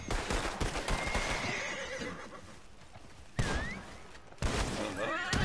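A horse in the Red Dead Online video game whinnies loudly and shrilly up close, with hoof clops and a gunshot-like thump mixed into the busy game sound.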